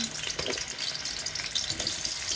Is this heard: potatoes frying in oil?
yes